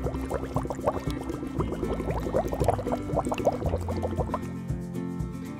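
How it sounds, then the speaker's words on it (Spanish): Liquid nitrogen boiling off over tomatoes and bananas at minus 196 degrees, a steady close bubbling and dripping crackle with a low hiss running through the whole stretch. "podemos observar cómo hierve el nitrógeno a menos 196 grados"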